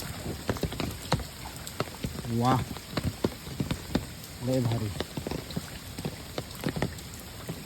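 Steady rain patters on surfaces during a crab-catching outing, a close, fairly even wash with scattered drop clicks, while people talk over it in several bursts.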